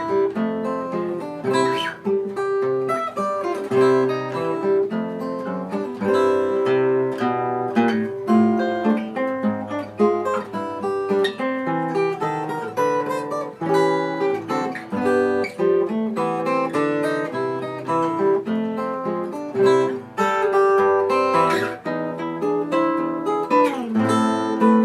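Acoustic guitar picking section C of the ragtime piece Heliotrope Bouquet, a busy, steady stream of plucked notes and bass lines, close and loud throughout with no talking.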